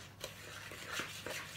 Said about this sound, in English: I'm going to stir up the butter and sugar together